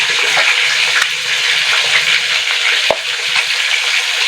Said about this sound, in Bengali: মাছগুলো একটি ভাজা হয়ে গেছে আর উল্টে নেবো লাল করে ভেজে নেবো